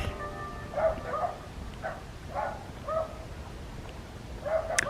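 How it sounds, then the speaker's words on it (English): Dogs inside a house bark and yelp in short, muffled bursts heard from outside, repeating every second or so at a fairly faint level. "those dogs sound like they're getting beat up in there"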